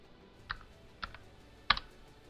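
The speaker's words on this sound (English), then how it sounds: "It won't show that you're typing, but you actually are typing" A few separate keypresses land on a computer keyboard while a password is entered: three spaced clicks, the last one a bit louder with a quick double tap, close and crisp against quiet.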